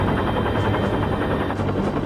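An Air Force helicopter flies close and loud overhead during a whale rescue, its rotor thudding in a steady, continuous rhythm with no talk over it.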